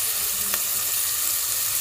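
Onions and curry leaves sizzling steadily in hot oil in a pan, a continuous bright hiss with a brief crackle partway through, even and close throughout.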